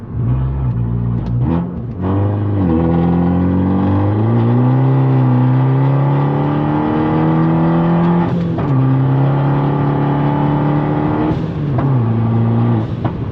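Fiat 500 Abarth with a stock-exhaust, slightly boosted turbo engine and five-speed manual accelerating hard, loud and close throughout, with climbing revs broken by quick gear changes and a steady strong drone to the end.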